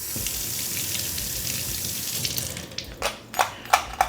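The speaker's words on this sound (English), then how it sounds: "So I'm gonna run this under some water and see if the key gets wet at all" Water from a tap runs steadily over a fake key-hiding rock, a constant close hiss and splash that turns into a few louder irregular splashes near the end as the rock shifts under the stream, with no voices.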